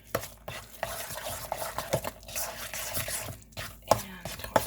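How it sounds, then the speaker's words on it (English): A utensil mixes half a pound of sugar into polenta batter in a bowl, with repeated scraping and stirring strokes and occasional sharper knocks, close and fairly quiet, with no talking. "I'm going to go ahead and mix this all together"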